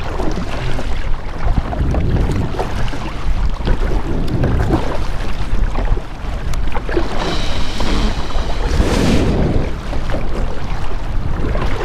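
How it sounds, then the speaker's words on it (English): Wind buffets the microphone on a kayak out on the water during a bass fishing trip in Jacksonville, a loud, rough, continuous rumble with gusty swells and faint water sounds beneath, and no voices. "it's a little windy"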